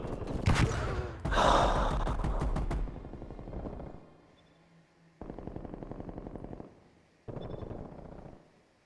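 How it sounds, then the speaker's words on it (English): A flashbang grenade and gunfire in a multiplayer shooter video game: a sharp blast and heavy breath-like bursts, then rapid machine-gun fire in two short rattling volleys separated by quiet. "flashbang going out"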